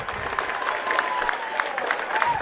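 Spectators at a rugby colts grand final cheer and clap after a try is held up over the line, a lively burst of applause with sharp claps over a steady crowd roar.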